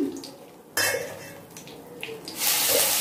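Raw onion dropped into hot oil while cooking Bengali rui posto, a short clatter of the pan followed by a loud, steady sizzling hiss that swells near the end.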